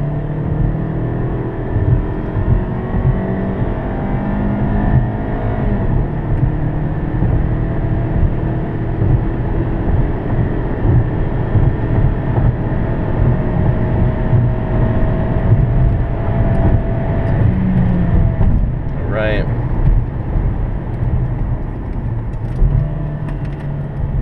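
A Hyundai Sonata accelerating in second gear, its engine droning in a steady, rising hum from inside the cabin, with tire and road noise underneath and a brief higher whine near the end.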